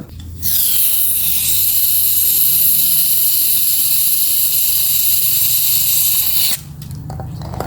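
Cleaner sprays through a Honda Click 110i scooter's fuel injector in a loud, close, hissing jet. It starts sharply, holds steady for about six seconds, then cuts off, followed by faint handling noise.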